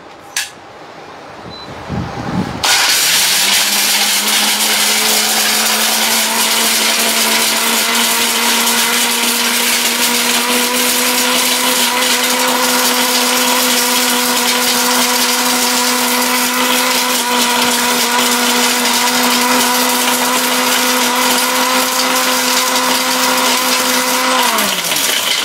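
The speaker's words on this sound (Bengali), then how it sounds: "এই যে ব্লেন্ডারটা চালু করে দেই" An electric blender grinding whole turmeric pieces starts with a brief clatter, then runs as a loud, steady, high-pitched motor whine for over twenty seconds before winding down.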